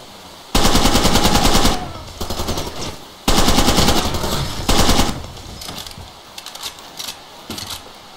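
Loud automatic gunfire from a weapon in the video game Far Cry 2 rattles in two long sustained bursts, followed by shorter scattered shots and clicks trailing off.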